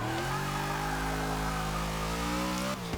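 Engine of a 1993 Ford SVT Cobra R in Forza 6, struggling for traction, holding a loud steady high-rev drone with rising harmonic pitch before cutting off sharply near the end.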